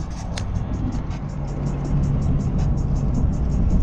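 Inside a car cruising on a highway, a continuous low road and engine rumble holds steady, getting slightly louder partway through. There is a faint rhythmic ticking on top and no talk.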